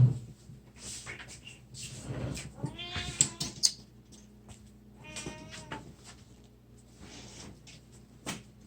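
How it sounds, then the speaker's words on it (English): An indoor cat that wants to get outside lets out a few loud, insistent meows close by, with quieter rustling and brief sounds between the calls. "it's my cat, and he should not be doing what he's doing right now."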